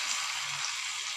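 Urad dal vada batter fries in hot oil, giving a steady, close, even sizzle with no voices.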